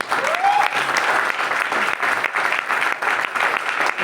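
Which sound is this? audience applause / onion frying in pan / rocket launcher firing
audience applause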